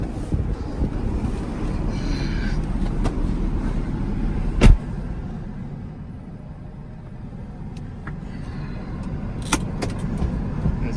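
A 1991 Acura NSX with a 5-speed manual is driven along, its engine and road noise forming a steady low rumble throughout, with a sharp click or knock partway through and a few faint ticks.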